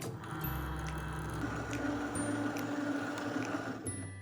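A Cricut cutting machine cuts scrap paper with a steady low motor hum and faint whirring, joined by soft ticks and clicks as the blade carriage moves.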